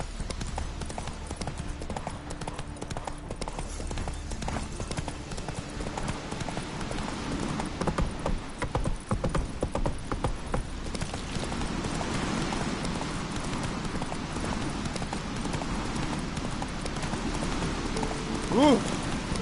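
A horse gallops in The Witcher 3 with a steady, rapid clip-clop of hooves. It is close and continuous, with brief game voices over it and a light rain-like patter in the background.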